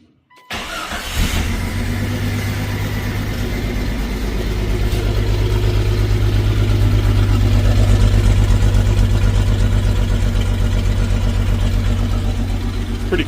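Jeep XJ engine on its stock exhaust starts up and settles into a steady idle, a low continuous hum with a deep, even drone close to the microphone, quiet and unremarkable.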